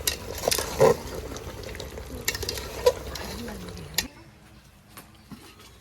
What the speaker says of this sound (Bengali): এবার একটু নাড়িয়ে চাড়িয়ে দেবো।